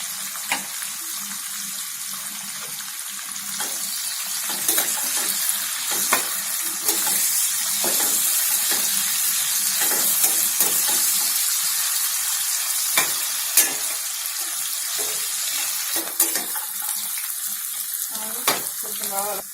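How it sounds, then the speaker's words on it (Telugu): Sliced onions fry steadily in a pan until golden for a chicken gravy, giving a continuous close sizzle with intermittent scraping and stirring clicks throughout. "ఇది కొంచెం గోల్డ్ కలర్ వచ్చే వరకు వేగనివ్వాలండి"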